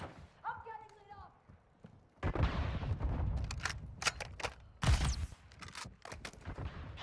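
Gunfire and explosions in Call of Duty Modern Warfare II, loud bursts and sharp repeated shots dominating the middle of the clip, with players shouting over the firing and a short voiced cue near the start.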